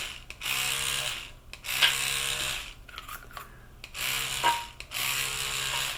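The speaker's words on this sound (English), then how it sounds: "And then moving forward with the airbrush." Airbrush spraying color into chocolate bon bon molds, a steady hissing spray in several bursts with short pauses between them, close and fairly loud, with no talking.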